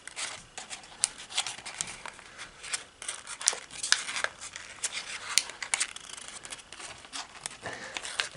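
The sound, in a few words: folding and crumpling origami paper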